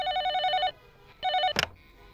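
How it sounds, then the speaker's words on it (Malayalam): An old-style telephone bell rings in two steady bursts with a short pause between, fairly close, then a clatter as the receiver is picked up. "ഫോൺ അടിക്കുന്ന കേട്ടൂടെ?"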